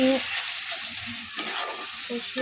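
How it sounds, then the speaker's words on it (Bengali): Spices sizzle and fry in a pan while being stirred for an egg omelette curry, a loud continuous crackling hiss close up with soft scraping, and no voices. "সব মশলাগুলো দিয়ে দিলাম বন্ধুরা। দিয়ে একটা ভালো করে এবার কষতে হবে।"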